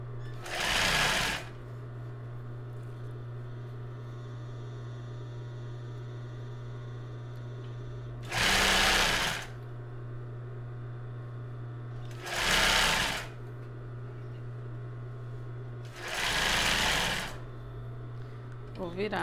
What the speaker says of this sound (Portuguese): Seguir costurando o outro lado.